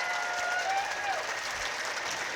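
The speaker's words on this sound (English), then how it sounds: "Give them a nice round of applause," Steady applause from an audience at a relay race event fills the space, a continuous wash of clapping at moderate volume with a faint tone in the background.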